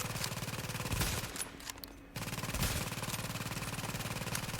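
Automatic turret in The Division firing rapid sustained bursts at an enemy, a dense rattling gunfire that cuts out briefly mid-way, then resumes at full intensity.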